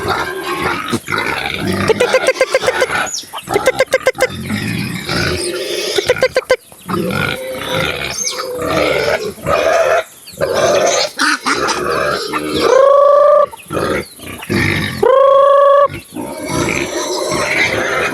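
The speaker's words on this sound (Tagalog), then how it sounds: "Napakaingay po ng baboy." Loud pig grunts and squeals, rough and repeated, with sharper harmonic squeals near the end; noisy and close, with occasional voices mixed in.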